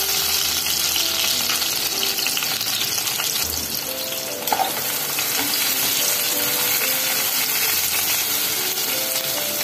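Plenty of garlic and green chilies fry in hot oil in a pan for a green masala garlic bheja fry, giving a steady, close sizzle with faint stirring scrapes throughout and a small clink near the middle.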